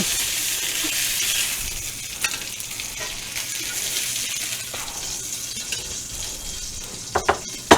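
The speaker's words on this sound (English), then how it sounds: "they've seared for 5 minutes on this side" Chicken searing in a hot pan for chicken fricassee, a dense steady sizzle up close, broken by scraping stirs and a few sharp clinks of a utensil on the pan near the end.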